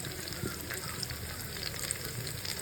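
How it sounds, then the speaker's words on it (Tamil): Onions and green chilies sauté in a pan for biryani, giving a steady, moderately loud sizzle with light clicks and scrapes of stirring throughout, no voices over it. "வெங்காயம் வந்து வதங்கிருச்சு ஓரளவுக்கு இப்போ வந்து பச்சை மிளகா சேர்த்துக்கிறேன்"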